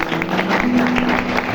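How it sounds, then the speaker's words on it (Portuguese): Worshippers in a church clap together in a brief burst of applause, loud and close, with a faint sustained tone from the sound system running under the clapping. "Você pode aplaudir o Senhor aí?"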